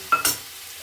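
Two quick scrape-and-clatter strokes as potatoes, peas and peanuts are stirred in a wok, close and sharp, then a faint fading hiss.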